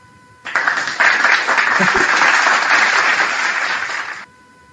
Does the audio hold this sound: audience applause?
yes